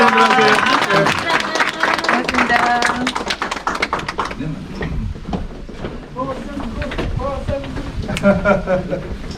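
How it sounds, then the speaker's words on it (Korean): An audience at a live talk event claps. Dense applause swells and carries on throughout, with voices chanting or calling over the clapping near the start. "자, 다 같이 박수 한번 칩시다."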